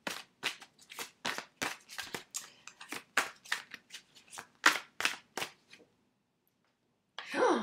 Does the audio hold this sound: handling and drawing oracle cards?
yes